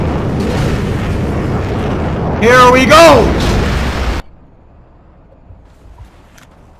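A Scud missile explodes in the video game Battlefield Iraq, a loud sustained roaring boom with a whistling sweep and a voice calling out over it, before it cuts abruptly to near silence.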